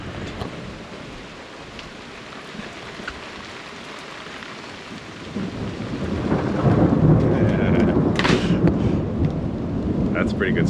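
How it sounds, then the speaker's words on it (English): Heavy rain drums steadily outdoors during an off-road recovery trip, swelling louder halfway through as the storm arrives, with rolling thunder rumbling underneath and a brief sharp crack near the end; no voices are heard. "Thunderstorm has arrived."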